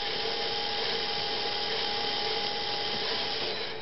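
A LEGO Power Functions motor, driven through a 2.4 GHz receiver, whirs in a steady high-pitched electric whine, close and constant, with no talking.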